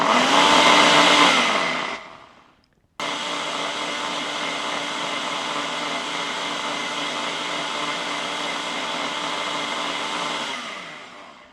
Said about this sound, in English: So I'm just going to blend this up again.